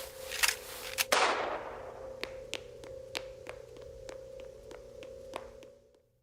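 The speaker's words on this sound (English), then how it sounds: "You think a gunshot's gonna save you?" A single sharp gunshot cracks near the start of a tense horror-game scene, followed by a string of regular metallic ticks and taps over a steady low hum that fades out.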